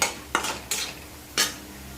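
Chana dal, urad dal, dried red chillies and asafoetida dry-roasting in a pan for curry leaf thuvaiyal, with a few distinct stirring scrapes against the metal over a faint background hum.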